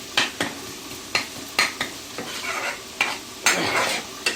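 Onions frying in a pan, with a steady sizzle and repeated scraping stirs at an irregular rhythm, close and moderately loud, with no talking.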